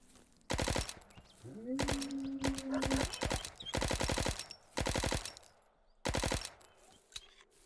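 Automatic gunfire in the survival shooter game ZERO Sievert, six loud sustained bursts spread over several seconds with short quiet gaps, plus a brief tonal whine in between.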